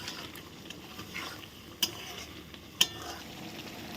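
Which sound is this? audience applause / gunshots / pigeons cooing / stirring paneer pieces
stirring paneer pieces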